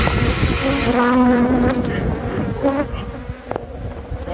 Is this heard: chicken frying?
no